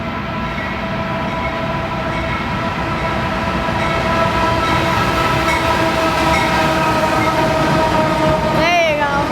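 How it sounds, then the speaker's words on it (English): A freight grain train in Wauseon, Ohio, led by an ex-BNSF SD70MAC and a Wells Fargo leasing locomotive, rolls past close by with a loud, steady rumble and a brief horn-like tone near the end. "we have a Wells Fargo leasing locomotive"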